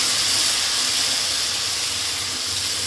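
Spice-ground water poured into a hot pan of murla fish curry, a steady loud hiss and steam roar sustained through the whole moment with no talk.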